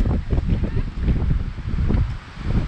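Strong gusting wind buffets the microphone on a ski slope, a loud, uneven low rumble that swells and eases throughout.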